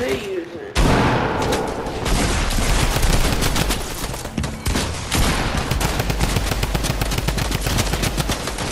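Guns blaze in a Red vs Blue video game match, dense rapid automatic fire rattling almost nonstop at close range with a few heavier booms.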